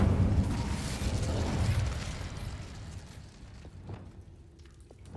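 In Hogwarts Legacy, the Incendio fire spell releases a rushing burst of flame that roars loudly for about two seconds, then fades into softer crackles and a few small pops.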